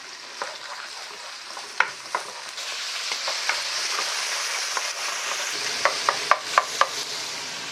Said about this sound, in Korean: 전복 잘라준 거를 넣겠습니다. 볶아주세요.